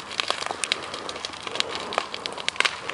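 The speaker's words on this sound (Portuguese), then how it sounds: "É inevitável que o fogo se alastre." Dry roadside vegetation burns beside a highway, giving off scattered sharp crackles and pops over a faint hiss, moderately close and without talk.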